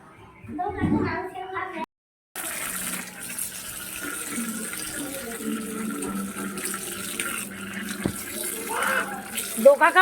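Water poured from a bucket to wash feet, splashing and running water under and between people talking, with a brief gap before the pouring continues.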